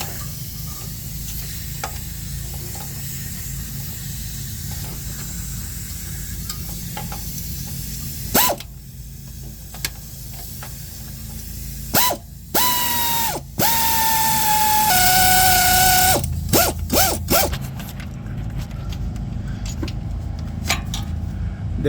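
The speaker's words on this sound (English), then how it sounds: "So I'll now use my pneumatic ratchet gun." A pneumatic ratchet gun unscrewing a starter motor bolt on a Toyota Prado 120 Series 4.0 V6 petrol, several sharp hissing air bursts and whirring runs with a rising whine, loud and close amid quieter shop hiss.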